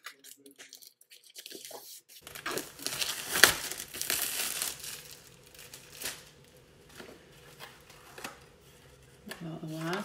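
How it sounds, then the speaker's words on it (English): Plastic wrap crinkling on the outside of a watercolor sketchbook envelope during an unboxing, a few close rustling and crackling bursts with one sharp crinkle, under a quiet voice. "This one has the plastic wrap on the outside of the envelope."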